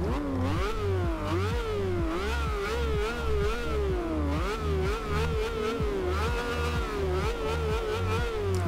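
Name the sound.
Lamborghini Veneno engine revving, video game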